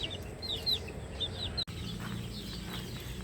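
Gamefowl chickens cluck steadily over a low, constant background hum, the calls coming in short repeated bursts from several birds at moderate distance, with a brief dropout midway.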